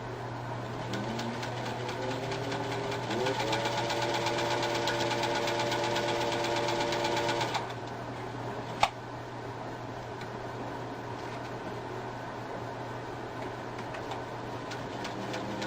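A serviced and adjusted 1950 Singer 201-2 vintage sewing machine runs with a steady mechanical hum that rises in speed, continues for several seconds, then stops with a sharp click before quieter background noise.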